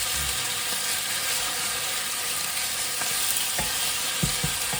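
Chicken sizzles loudly in a hot pan, a dense, steady crackling hiss with a few soft bumps and thuds near the end.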